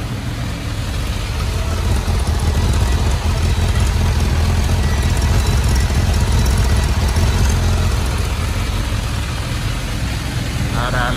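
A Kawasaki GPZ 1100 café racer motorcycle, engine already warm, idles steadily and close, a loud continuous low throb that holds even throughout with no revving.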